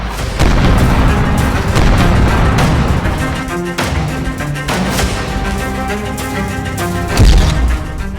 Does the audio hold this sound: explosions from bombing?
yes